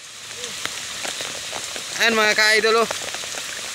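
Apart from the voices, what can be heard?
rain falling at the seaside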